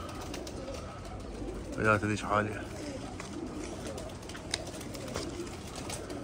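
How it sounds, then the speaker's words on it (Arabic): Pigeons coo softly in a brief burst of soft throaty calls, close but faint, with someone talking over them. "شوفوا هسه بدت تقزقز الطيور"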